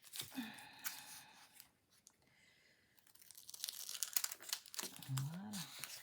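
Scissors snip and crinkle through 3D foam for a handmade Valentine's card, close and quiet, with soft rustling bursts and a pause in between.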